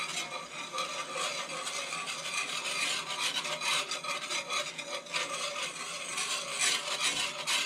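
A whisk scrapes continuously through half and half in a pan during mac and cheese preparation, a quiet, busy rasping and rubbing with small rhythmic swells and no voices.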